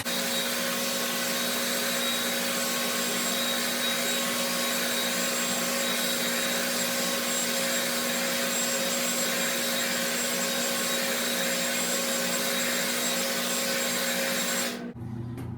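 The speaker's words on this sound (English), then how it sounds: "we're going to speed up that process using a hair dryer" A hair dryer blows steadily at close range, drying a clear-coat finish, with a constant whirring hum, then cuts off abruptly near the end.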